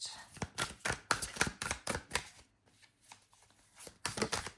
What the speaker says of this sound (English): So I will pull the cards first,